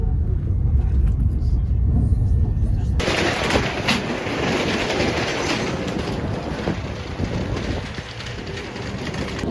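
A London Underground metro train rumbles loudly, shifting from a low hum to a harsh, broadband roar of wheels and carriage noise partway through, continuous and close.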